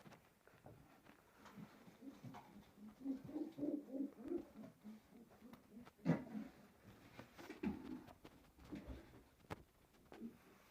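Soft, low pigeon coos repeating irregularly, fairly close, with faint rustling and background noise and no talking.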